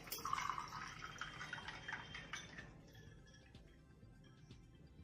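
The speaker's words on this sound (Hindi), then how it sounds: "और अब हम इसमें थोड़ा सा पानी डालेंगे।" Water trickles into a glass over ice and blue curacao syrup for a simple drink, a soft bright splashing pour that fades to a faint quiet trickle, close and gentle with no talking.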